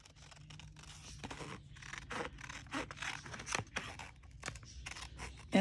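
Scissors snip through paper along a marked line while crafting envelopes, a quiet series of irregular short cuts and rustles, close and faint, with no talking.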